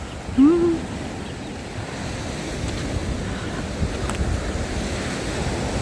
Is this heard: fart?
no